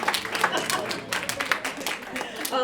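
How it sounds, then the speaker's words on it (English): A school event audience gives a round of applause, with steady, fairly quiet clapping from many hands that stays even throughout, close by, with faint voices mixed in. "Big round of applause for Marielle"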